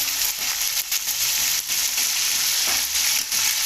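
Whole spices (cinnamon, black cardamom, cloves and bay leaf) fry in oil as the base for a mixed vegetable and chicken pilaf. The sizzle is dense and continuous, with a few soft stirring dips and no talking.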